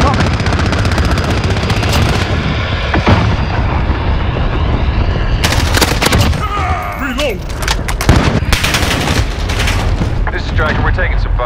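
Heavy gunfire and explosions in the video game Call of Duty: Modern Warfare (2019), loud continuous automatic bursts and booms filling the scene, with shouted voices breaking through partway.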